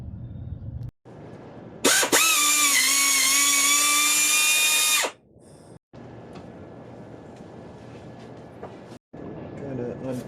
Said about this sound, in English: Now I'm going to spin it out with an air ratchet